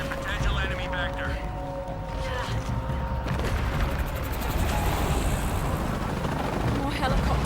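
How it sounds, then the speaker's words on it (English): Helicopters in the video game Shadow of the Tomb Raider, a steady loud rotor drone with rumbling game noise and radio-style voices over it throughout. "More helicopters."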